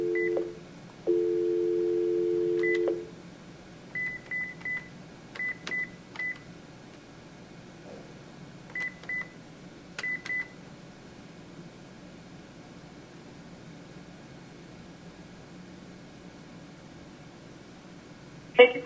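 A conference phone plays telephone tones: a long steady tone, then short paired touch-tone beeps in quick groups and single bursts, clean and close, ending with a sharp click.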